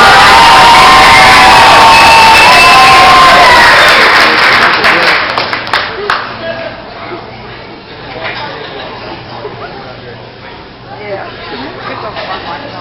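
Loud crowd cheering, shouting and applause for the ASU crew at a fraternity Christmas gathering, a roaring burst of whoops and clapping that fades into scattered claps and room chatter.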